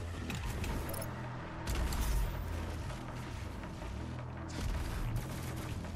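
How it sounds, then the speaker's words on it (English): Arachnotron fire in the video game Doom Eternal, a dense continuous barrage of shots and booms layered over game sound, swelling louder around the middle and end. "the Arachnotron is shooting again"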